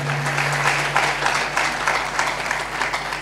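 Steady applause from a church congregation during a sermon, dense and continuous clapping from many hands filling the space, with a faint low hum underneath and no speech.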